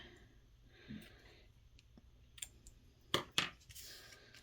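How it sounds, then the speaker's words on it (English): Scissors trim the edges of a paper greeting card. Two quick, crisp snips come close together near the end, after quieter paper handling. "I'm just going to trim the edges a tiny bit"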